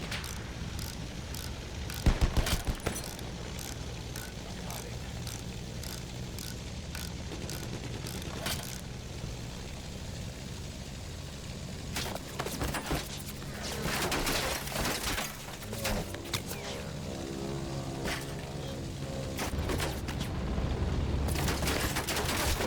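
Machine gun fire in the Battlefield 1 video game: rapid bursts of automatic gunshots crackle in quick sequences, mixed with distant shots and battlefield noise over a constant rumbling background.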